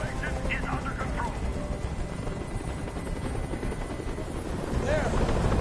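In the video game Detroit: Become Human, a helicopter hovers overhead as a loud, steady rotor drone fills the scene, with speech running over it.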